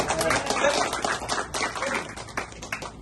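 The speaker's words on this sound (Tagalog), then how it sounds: "parinig muna ng palakpak" Audience clapping and applause at a Filipino rap battle, a dense continuous burst of many hands with crowd noise, loud and close throughout.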